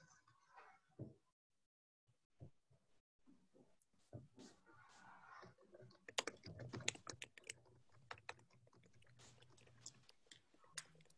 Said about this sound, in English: We can hear your typing.